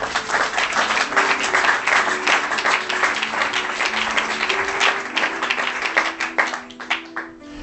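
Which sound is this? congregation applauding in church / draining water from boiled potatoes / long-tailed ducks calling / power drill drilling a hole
congregation applauding in church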